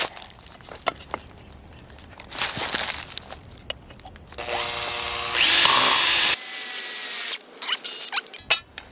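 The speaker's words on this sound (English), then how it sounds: "we're going to drill the totes also to marry these up" A power drill with a 5/16 bit whines in several bursts, drilling IBC totes, its pitch rising as it bites into material, with clicks and clatter between runs; close and loud.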